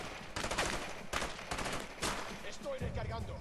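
Gunfire from the video game A Way Out comes in rapid, loud bursts of shots, close and repeated across the stretch, with a voice speaking faintly underneath.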